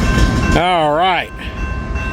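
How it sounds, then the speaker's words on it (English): Freight train horn sounding one sustained, wavering blast of about three-quarters of a second near a rail line, over the rumble of a rolling train. "I hear another train horn."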